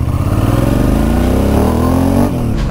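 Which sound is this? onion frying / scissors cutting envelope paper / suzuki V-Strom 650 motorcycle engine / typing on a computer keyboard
suzuki V-Strom 650 motorcycle engine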